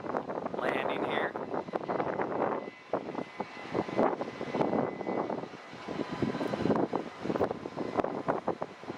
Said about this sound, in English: Looks like another Jet Suite Xer landing here.